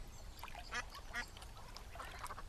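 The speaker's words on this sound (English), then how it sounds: "The ducks were swimming happily." Cartoon ducks quack in a lively, overlapping flock, several bright nasal calls rising in short bursts over a steady low background hum, with no one talking.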